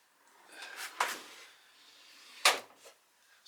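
A large shop drawer on 100-pound ball-bearing slides rolls open and shut, giving two distinct sliding thuds with metallic rattles in between, close and moderately loud with no speech.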